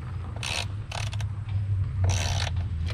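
Wrench tightening a bolt on an offroad roof rack being installed on a 2021 Ford Bronco Sport, heard as two short bursts of quiet ratcheting clicks over a low background hum, with no talking.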